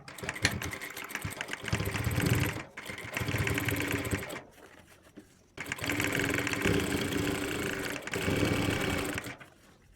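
A sewing machine runs steadily as it stitches the edge of a kurta collar, in two long close bursts separated by a short pause and a brief quieter stretch.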